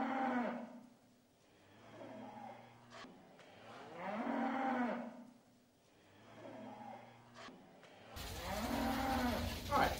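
A toy flying cow lets out repeated recorded moos, three long drawn-out lowing calls spaced evenly with quieter gaps between, clear and close, with a mechanical whir underneath.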